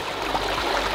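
Warm water streams and trickles steadily in a travertine hot spring pool at Pamukkale, Turkey, a close, continuous wash with no voices over it.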